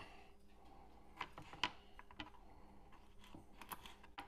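Three garlic cloves cut with a knife on a board, a series of faint, sharp, irregular taps and clicks, quiet and close.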